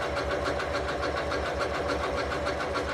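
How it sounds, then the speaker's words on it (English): A sewing machine runs a zigzag stitch over yarn to form a gathering tunnel for ruffles, giving a steady, close mechanical whir with a fast even rhythmic pulse that continues without a break. "So I'm just running the zigzag stitching right over top."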